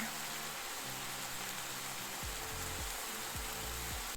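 Ground meat and peppers brown in a pan, a soft steady sizzle under faint clinks and scrapes of a utensil stirring, fairly quiet with no talking.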